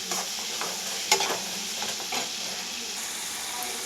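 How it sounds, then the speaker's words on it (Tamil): Ginger garlic paste, onion and tomato sauté in a pan for empty salna, a soft continuous sizzle with light stirring scrapes and one sharper clink of the spoon near the middle; no talking. "நல்லா இஞ்சி பூண்டு பேஸ்ட்டு, வெங்காயம், தக்காளி நல்லா வதங்கி வரணும்."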